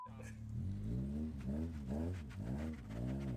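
Car with a 20-valve Toyota 4AG engine revving in a few quick, rising and falling bursts, fairly close and moderately loud, with voices talking over it.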